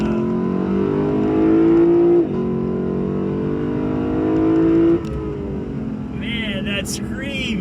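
A Lexus LC500's V8 engine revs loud and close, a droning pitch that climbs through the gears with brief drops at each shift, ending in a higher whine.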